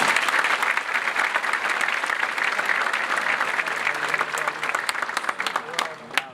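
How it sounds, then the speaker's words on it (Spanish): Applause from an audience at an education programme event in Spain, steady dense clapping that fills the whole stretch at full strength before thinning slightly near the end. "eso merece un fuerte aplauso también"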